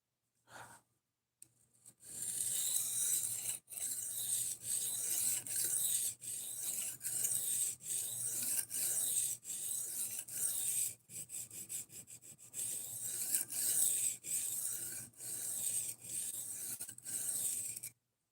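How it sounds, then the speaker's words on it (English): A knife edge rasping steadily against a sharpening stone, long repeated strokes in bursts with brief pauses, close and fairly loud, during sharpening in which the edge got chipped. "The first time I've chipped an edge while sharpening."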